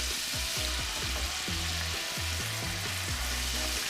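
Red Lechwe backstrap meat frying in a pan, a dense, steady sizzle with crackling oil throughout and occasional soft stirring or shifting sounds, close and continuous without any talking.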